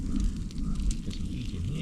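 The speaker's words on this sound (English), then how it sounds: "Lots and lots of embers in there." An outdoor wood fire full of embers, used for cooking, gives a close, steady roaring rumble with faint crackles throughout the short moment.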